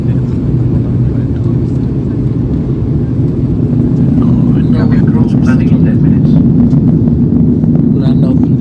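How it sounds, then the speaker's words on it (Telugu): Airliner descending on approach to land in Delhi, a loud steady low cabin engine drone and roar continuing throughout without break. "ఫ్లైట్ కిందకి పోతా ఉంది, కిందకి దిగుతుంది అనమాట ఫ్లైట్."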